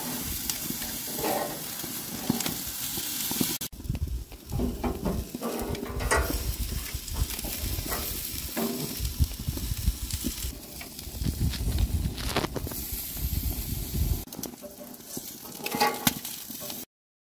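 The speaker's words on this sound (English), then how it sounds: "Place your skewer on, turning every 2 to 3 minutes until the meat is done." Meat skewers sizzle and crackle on a barbecue grill for a Greek dinner, a steady close hiss with occasional pops and scraping as they are turned, no talking.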